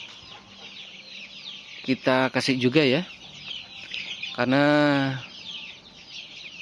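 Broiler chickens raised for meat cluck and squawk close by. Short, loud bursts of calls come in two clusters over faint background chatter, and someone speaks briefly between them.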